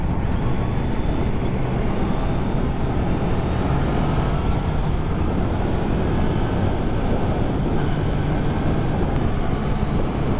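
Triumph Trident 660 A2-version motorcycle engine heard while riding, a constant loud drone with rushing wind noise, steady throughout with no speech.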